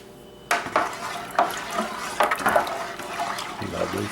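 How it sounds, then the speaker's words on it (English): Wine-making mixture stirred in a container, warm liquid being mixed to dissolve, giving a steady run of scraping, sloshing and clinking strokes that start abruptly and continue for several seconds, fairly close with no talk. "she's going to stir it up for about"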